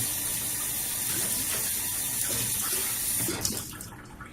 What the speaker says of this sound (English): And I'm just going to wash this out.